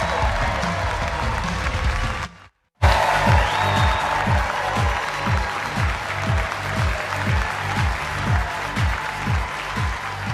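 Studio audience applauding at the Green Bay Distillery, a steady dense wash of clapping that continues loudly after a brief gap of silence early on.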